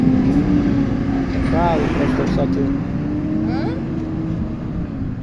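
A tractor drives past on a road, its loud, steady engine drone filling the whole stretch as it passes, with people talking over it.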